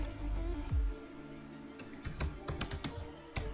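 Computer keyboard typing C++ code, a quick run of light key clicks tapping in an irregular rhythm, close and fairly quiet, alone without talk.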